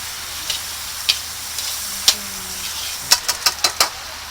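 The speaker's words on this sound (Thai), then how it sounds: "เราใส่เนยไปเลย" Butter for a seafood pasta sizzles in a pan with a soft, steady hiss, broken by several sharp clicks and taps of a utensil, a quick cluster of them near the end, close and without speech.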